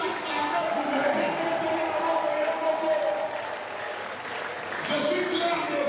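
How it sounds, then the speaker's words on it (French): Church audience applauding and cheering at a religious gathering, dense steady clapping with a brief dip midway before swelling again, fairly close. "Est-ce que vous pouvez tous acclamer vous-même?"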